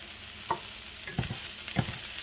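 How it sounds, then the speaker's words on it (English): Aromatics sauté in cooking oil for a lobster dish, a soft steady sizzle broken by a few clicks and scrapes of stirring, close and fairly quiet with no talk. "The first step is you have to saute this ingredient. We want to create the flavorful oil, cooking oil."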